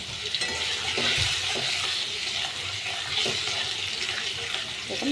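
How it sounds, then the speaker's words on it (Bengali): Fish coated in turmeric and chilli powder is stirred in a pan, a continuous sizzle with scraping and clattering strokes of a spoon, close up and without speech. "দিয়ে এটাকে ভালো করে একটু নাড়াতে হবে।"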